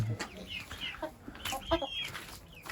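Chickens, including a Brahma rooster, cluck and murmur close by in a string of throaty calls, set against a faint outdoor background of a muddy, rain-soaked coop.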